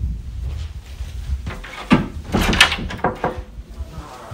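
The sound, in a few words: door opening as someone arrives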